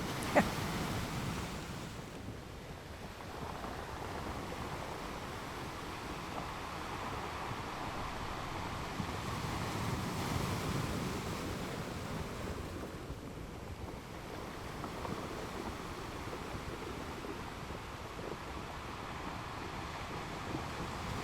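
Steady wind and breaking surf at a beach near a marsh at sunset, a continuous broadband rush with gusty wind noise on the microphone and no voices.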